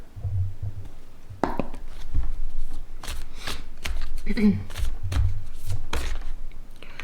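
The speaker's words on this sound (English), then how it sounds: "I'm going to pull some cards from the angels and ancestors deck" Oracle cards from the Angels and Ancestors deck being shuffled by hand, a series of quick riffling bursts and soft thumps, close and clear, with a person talking between them.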